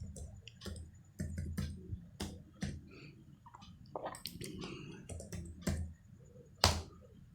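Clicks of a computer keyboard being typed on, close and quiet, in short irregular bursts of keystrokes with pauses between them.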